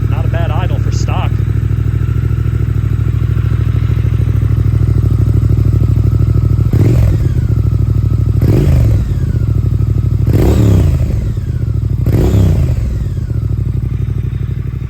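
A stock-exhaust 2022 Triumph Speed Twin motorcycle idles close by with a steady, even rumble, broken by several short throttle blips near the end.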